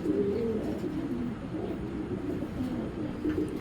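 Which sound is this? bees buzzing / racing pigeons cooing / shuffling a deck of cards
racing pigeons cooing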